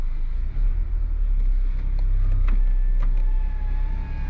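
A Toyota Yaris GR 1.6 with a 261-horsepower engine and manual gearbox pulls away, its steady rumbling engine drone loud and close throughout, with faint whining and clicking on top.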